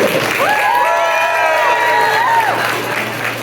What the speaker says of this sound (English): give a big round of applause to all of our dignitaries, including Judy Chu